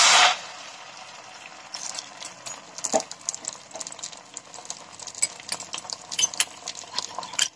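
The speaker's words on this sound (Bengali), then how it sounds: "দিয়ে ডিমটা এখন আমি ভালোভাবে ভেজে নিব" Beaten egg frying in a hot kadai, a soft steady sizzle with scattered scraping and stirring clicks from a utensil, close and alone with no voices.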